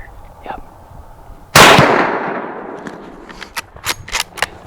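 A single loud rifle shot from a .350 Legend during a late-season deer hunt in Michigan, a sharp blast with a long fading tail, followed by faint rustling and a few short clicks.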